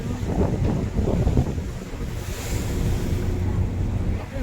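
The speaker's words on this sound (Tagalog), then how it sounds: "Alon, sobrang alon, no?" Rough ocean waves surge and crash continuously around a large ship at sea bound for Mindoro, mixed with strong wind buffeting the microphone, loud and close.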